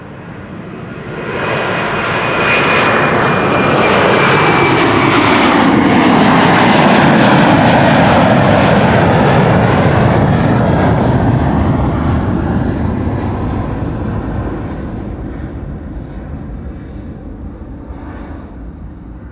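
An airliner departs Amsterdam Schiphol, its jet roar swelling loudly as it passes close with a sliding pitch, then slowly fading into the distance.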